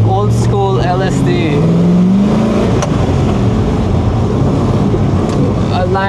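An LS V8 swapped into a JDM pickup runs at a steady, unrevved rumble throughout, a constant close engine drone with voices heard over it.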